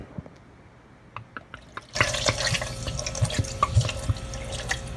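Bud Light beer is poured into a frying pan holding butter, a few drips giving way to a steady splashing, fizzing pour that runs loud and close to the end.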